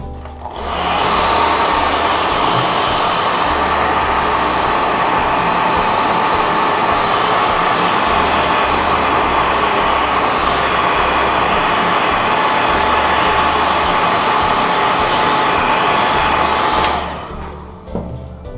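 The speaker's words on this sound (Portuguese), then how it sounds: "E posso acelerar também o secador." A hair dryer running on high speed dries craquelê paint, giving a loud, steady whooshing roar that holds for about seventeen seconds before cutting off near the end.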